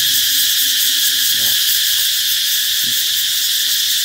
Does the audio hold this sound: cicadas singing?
yes